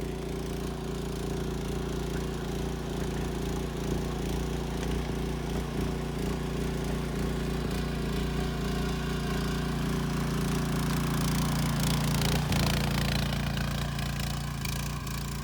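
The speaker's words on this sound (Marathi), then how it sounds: "पण आता ट्रॅक्टर असल्यामुळे पूर्ण चिखल करून घ्यायचं आहे" A tractor churns a flooded rice paddy into mud during rice planting in Konkan, its mid-pitched engine droning steadily nearby and growing slightly louder toward the end, with no talk.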